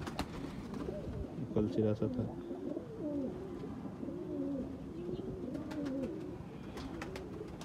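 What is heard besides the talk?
Rampuri pigeons cooing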